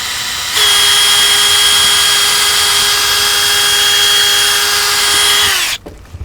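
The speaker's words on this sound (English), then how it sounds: "we start to drill" A power drill bores a hole through a material that is neither wood nor metal, whirring at a steady high pitch for about five seconds, close and loud, then winds down and stops.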